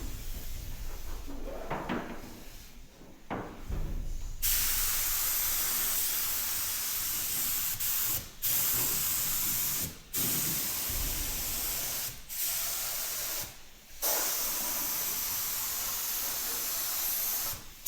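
A spray gun sprays paint thinned with white spirit onto a fire-damaged 1969 Ford Escort van, producing a loud, steady hiss in long bursts broken by brief pauses between passes.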